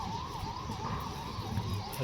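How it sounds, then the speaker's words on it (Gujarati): An ambulance siren wails in a steady rising and falling tone as it passes along a nearby road, moderately loud and continuous over low background rumble. "અત્યારે જો એમ્બ્યુલન્સ જાય છે આપણે"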